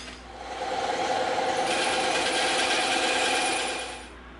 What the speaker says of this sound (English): let's go knock this off on the bandsaw real quick